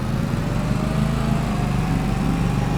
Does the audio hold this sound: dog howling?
no